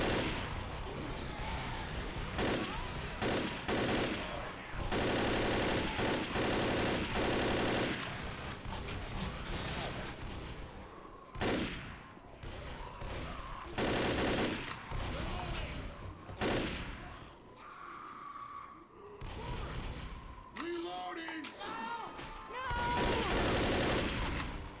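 Gunfire in the co-op zombie shooter Left 4 Dead during a horde attack, bursts of rapid shots and automatic fire in dense clusters broken by short lulls and reloads, loud and close throughout.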